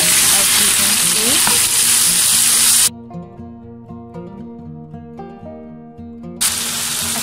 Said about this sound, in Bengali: চিকেনটা প্যান ফ্রাই হচ্ছে